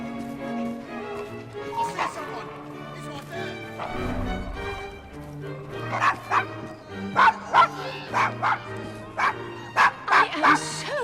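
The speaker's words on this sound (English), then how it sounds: "Is your dog quite all right?" A dog in Assassin's Creed Syndicate barks excitedly in a run of sharp, repeated yaps with some whimpering, growing denser toward the end, with game music and voices beneath.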